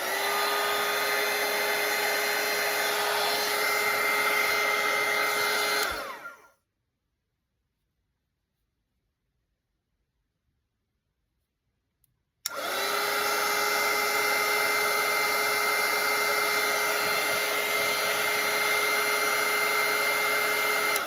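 A hair dryer blows steadily on wet watercolor paint, a loud, close whir that runs for about six seconds, cuts out into silence, then starts again with a click and keeps blowing.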